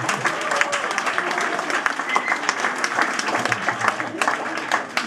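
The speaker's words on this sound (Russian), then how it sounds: "Просто бурные аплодисменты." Enthusiastic audience applause at a live performance, dense continuous clapping filling the whole stretch at steady moderate loudness with no voices standing out.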